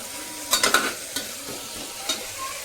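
A spatula stirs masala frying in oil for a potato and pumpkin curry, producing several quick scraping clatters over a low, steady sizzle, with a few more scrapes later on.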